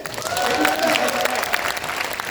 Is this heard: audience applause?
yes